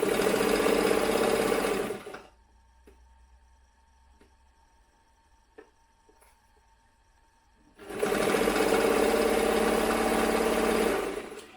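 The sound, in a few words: sewing machine stitching a dress bodice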